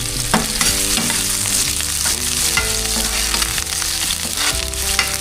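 Garlic, onion and ginger sauté loudly in a hot pan for a Filipino ginataan dish, a steady dense sizzle with stirring and scraping running throughout, with faint background music tones.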